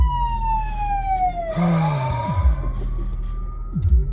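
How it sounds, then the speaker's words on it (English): An ambulance siren wails close by from inside a car, its tone sliding down as it passes, then fades into traffic and road noise. "That is an ambulance."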